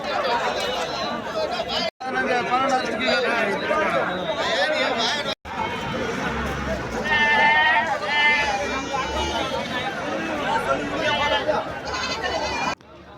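Sheep bleat at a busy goat market in Ranipet, where a ram with fine horns stands among the animals; several loud, wavering bleats rise over constant crowd chatter and nearby voices.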